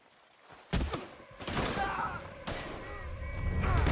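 Sharp bursts of gunfire in a Red Dead Redemption 2 shootout, loud volleys cracking out in clusters with reverberant tails, mixed with voices and growing commotion.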